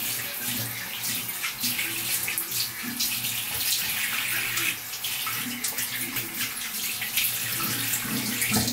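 Water gushing steadily from a tap in a barbershop, rinsing a face after shaving soap, a loud continuous splashing hiss with occasional irregular spatters.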